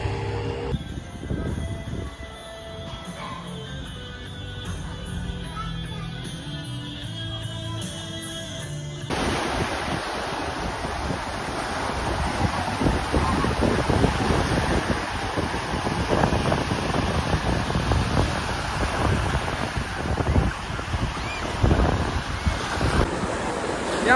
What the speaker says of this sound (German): Und das Meer ist hier hinten.